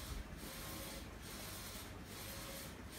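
An EraSmart DTG t-shirt printer runs in a quiet room, its print head sweeping back and forth in regular passes close to a second apart over a low steady mechanical hum.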